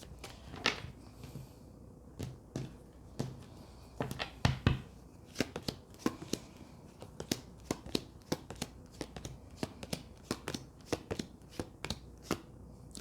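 Tarot cards are shuffled, handled and laid out one after another in a quiet room, with crisp slaps and riffles close to the listener in an irregular, steady rhythm.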